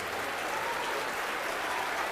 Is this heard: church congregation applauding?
yes